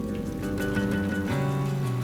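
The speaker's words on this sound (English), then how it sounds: "It started to rain really hard." Heavy rain pours steadily in a mountain backcountry storm, a dense continuous patter under a low droning background, loud and unbroken.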